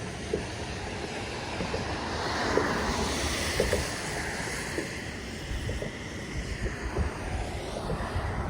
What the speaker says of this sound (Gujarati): આપણી લુણાવાડાની મહીસાગર નદી બે કાંઠે વહી રહી છે.